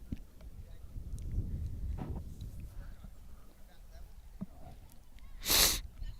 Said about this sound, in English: there's a big sniffle for you